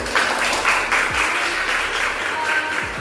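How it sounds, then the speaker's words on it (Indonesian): A classroom group applauds a student's presentation, with a few seconds of close, steady clapping from a small audience. "Kita berikan aplaus untuk Artika."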